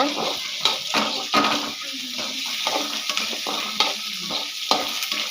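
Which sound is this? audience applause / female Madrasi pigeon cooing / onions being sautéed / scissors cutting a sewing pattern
onions being sautéed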